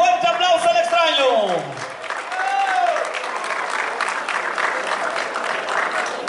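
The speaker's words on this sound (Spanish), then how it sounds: "Vamos a recibirlo con un fuerte aplauso al Extraño." A crowd at a bull-riding event applauds and cheers for a rider, loud and sustained, while an announcer's amplified voice with sweeping pitch rings out over the start.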